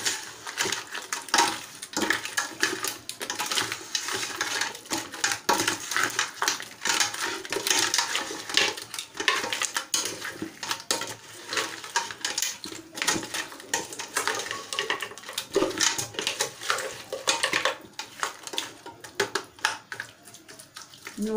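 Crab sauce being stirred in a cooking pot, wet sloshing and scraping with irregular clinks of utensil against the pot, moderately loud and continuous, no talking.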